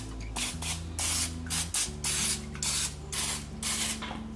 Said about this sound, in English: give them a little quick spray with this olive oil